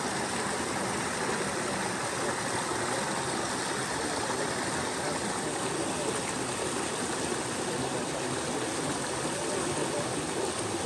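Spring water pours straight out of rock in the Jamaican hills of St Thomas and Portland, a steady, dense rushing splash close by that stays constant throughout.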